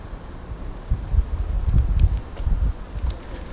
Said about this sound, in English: Getting a little windy over here.